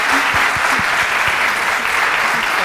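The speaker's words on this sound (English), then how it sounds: "Please, big welcome and applause to Evelin." A design conference audience applauds to welcome a speaker to the stage, loud, close and continuous clapping from a packed room, with a faint murmur of voices underneath.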